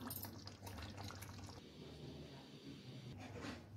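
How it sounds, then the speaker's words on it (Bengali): Fish curry, a Bengali baing mach rosha, pours out of a cooking pan with a steady wet, liquid sound and a brief splashy rush near the start and end, close and moderately quiet. "তরকারিটা এখন আমি ঢেলে নেব।"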